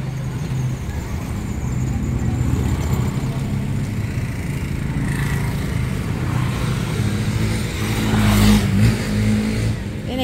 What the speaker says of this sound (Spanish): Veo viene carro.